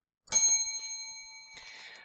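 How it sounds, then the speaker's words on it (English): A bright bell chime used as an audiobook page-turn cue rings once, cleanly and close, then holds a steady ringing tone that slowly fades over about two seconds. "When you hear the bell"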